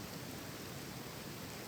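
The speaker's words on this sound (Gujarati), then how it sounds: "આ વરસાદ છે તમને લાગે ભૂકા કાઢી નાખ્યો મિત્રો" Heavy rain pouring down outdoors under low clouds, a dense, steady hiss of falling water that stays even and unbroken throughout, with no voices.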